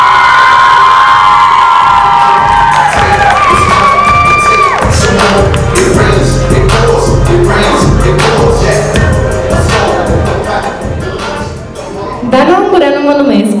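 A loud crowd at a high school freshman ball and pageant cheers and shouts over music, with excited whoops rising and falling throughout.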